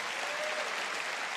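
Applause from an audience at a testimony gathering, a dense steady patter of clapping filling the whole moment at even loudness, with no talk over it.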